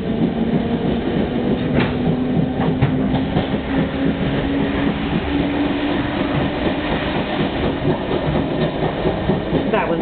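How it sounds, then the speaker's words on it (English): A London Overground train rumbles steadily past nearby with rhythmic clickety-clack of wheels over rails and a low continuous roar. "That was an overland train going past."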